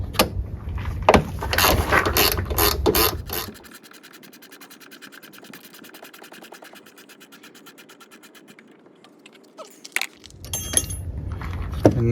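A ratchet wrench clicks rapidly and steadily while backing out an 8mm bolt on a 2017 Ford Fiesta during brake master cylinder work, set between bursts of louder clattering handling noise at the start and end.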